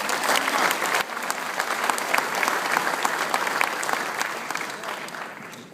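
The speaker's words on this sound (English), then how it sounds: "let's give them a round of applause, please" Audience at a Christopher Columbus event applauding the speaker's family, a sustained, loud roar of many hands clapping that carries evenly for several seconds before tapering slightly.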